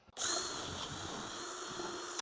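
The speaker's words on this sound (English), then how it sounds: "It's going to allow you to drill a nice straight hole." A power drill bores a straight hole through wood with a drill guide on a workbench, giving a steady close whirring grind for about two seconds that starts and stops abruptly, with no talking.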